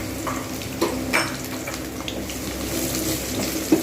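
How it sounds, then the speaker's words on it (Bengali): Onions fry in hot oil for a potato chicken curry, a steady close sizzle with occasional stirring knocks and scrapes, no talking. "এর মধ্যে আমি দিয়ে দেবো পেঁয়াজগুলো পেঁয়াজগুলো কিন্তু আমি খুব ভালোভাবে ভেজে নেবো"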